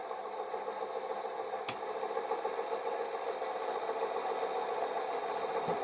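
A homemade free-energy device's motor hums steadily at moderate loudness as it gradually speeds up, a continuous mid-pitched whir with a faint rattle and one sharp click partway through.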